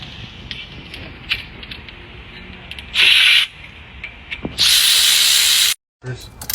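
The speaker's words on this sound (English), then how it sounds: "Right now I'm using my fancy dancy caliper compressor" A brake caliper compressor tool pushes a car's brake caliper piston back during a brake pad change, with close creaking mechanical sounds broken by two loud hissing bursts and a brief silence.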